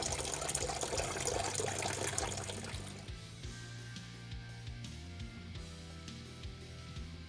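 Coolant draining from the radiator of a 2008 Toyota Tundra with a 5.7 engine, a steady splashing gush that is loud for about three seconds, then drops to a quieter trickle.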